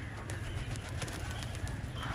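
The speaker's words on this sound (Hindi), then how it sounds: "सारे कबूतर ना माशाल्लाह काफी कबूतर ऊपर निकल रहे हैं" Pigeons pass overhead above a rooftop, with faint repeated wing flutters and soft bird sounds over a low, steady background hum; quiet and fairly distant, with no talking.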